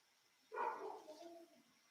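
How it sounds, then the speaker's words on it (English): A husky howls faintly in the background of a quiet indoor room, one drawn-out, wavering call lasting about a second. "Can you guys hear Scout howling in the background"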